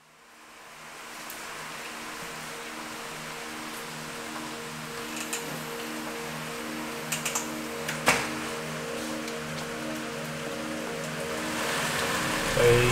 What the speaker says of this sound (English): It is absolutely bucketing down.